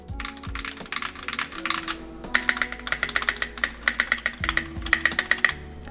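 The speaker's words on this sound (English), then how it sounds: "This has lubed Holy Pandas with dropped MT3 black on white profile keycaps, and here's how we're sounding." Typing on a mechanical keyboard fitted with lubed Holy Panda switches and MT3 black-on-white keycaps, a quick, close run of crisp, thocky keystrokes with an uneven rhythm and no talk.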